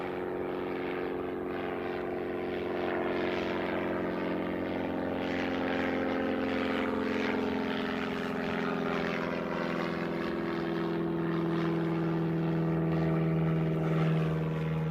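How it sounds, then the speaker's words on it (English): A Piper propeller training aircraft from Canterbury Aero Club at Christchurch Airport drones steadily, its engine and propeller tone rising gradually in pitch and loudness as it passes nearby. "this is one of the training aircraft from Canterbury Aero Club"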